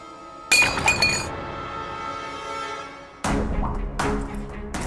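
A glass of milk clinks and shatters with a sharp crash, followed by a few more clattering impacts and a second burst of breaking sounds.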